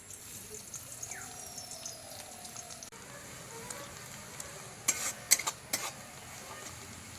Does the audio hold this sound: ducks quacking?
no